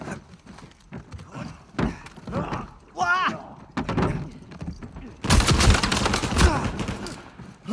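Gunfire from the Uncharted 4 video game comes in scattered shots, then a dense burst of rapid fire near the end, mixed with game sound effects and voices talking.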